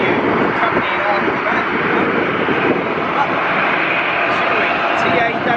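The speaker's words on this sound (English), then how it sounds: "Next up we caught the landing of this Qatar Boeing 777." A Qatar Airways Boeing 777 landing at Amsterdam Schiphol airport, a loud, steady broadband roar of jet engines and rushing air that stays constant throughout, with possible wind buffeting on the microphone.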